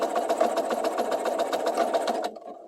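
Sewing machine stitching elastic onto a sweater romper waist, a fast, even mechanical rattle running steadily close up before stopping abruptly near the end.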